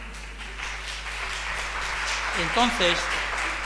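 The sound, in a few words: audience applause at a conference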